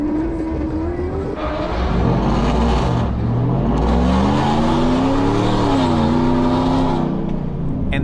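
A Whipple-supercharged Chevrolet Silverado Trail Boss pickup runs a cone course, its engine revving hard through repeated rising and falling acceleration pulls, loud and close, with supercharger whine over the deep V8 rumble and no talking.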